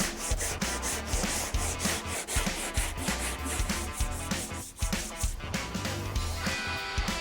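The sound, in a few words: hand block sanding body filler on Mustang wing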